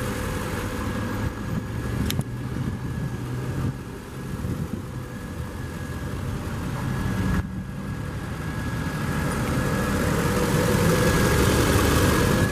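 2007 Volvo XC90 AWD with a Yamaha-built 4.4 liter V8 idling, a steady low rumble held throughout with a couple of faint clicks, close and continuous, with no talking.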